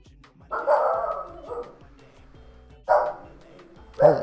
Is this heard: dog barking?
yes